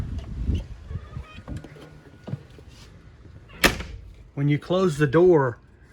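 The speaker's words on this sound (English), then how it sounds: "This door, when you close the door," A door on a 2021 RiverStone Legacy 42FSKG RV shuts with a single sharp thud among light handling noises, and a voice speaks just after.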